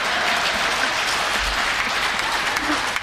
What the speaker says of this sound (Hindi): आगे वाले भी ताली बजा रहे सारे लोग।